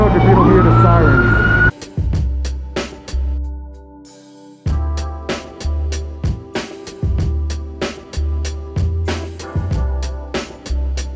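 A siren wails briefly at the start on a Manhattan street in New York, then gives way to a series of loud, sharp bangs and rattles in uneven succession.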